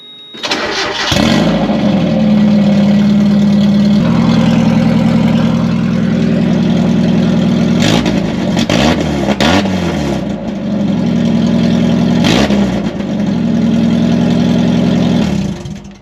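A loud, raw Mazda Miata engine with no exhaust idles with a harsh, unmuffled rumble, blipped into brief revs a few times, with no voices.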